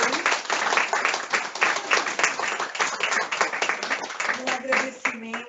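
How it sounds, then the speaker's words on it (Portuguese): A lecture audience gives dense, sustained applause at the close of a talk on guilt and responsibility. Steady crowd clapping fills the whole stretch, and a voice starts speaking near the end. "vamos dar uma salva de palmas mais uma vez"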